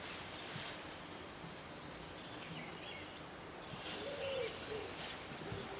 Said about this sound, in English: Wood pigeons cooing.